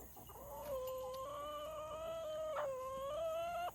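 Hens call in a steady run of harmonic clucks and drawn-out squawks, close and fairly loud, with soft farmyard background and no talk.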